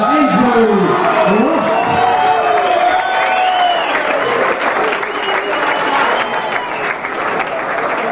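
Crowd applause and cheering at an amateur boxing fight night in a gym, loud and sustained, with shouts and whistles rising over the clapping and voices mixed into the noise.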